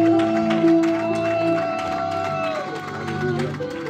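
A church congregation applauds and cheers to welcome an apostle, steady crowd clapping blended with voices and sustained music tones throughout.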